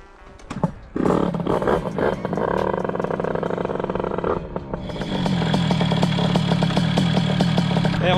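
A 50cc scooter engine, tuned to about 30 hp, fires up after a coolant hose repair, catching with a sharp burst and then running loud and steady, revving higher partway through, close by with no talk.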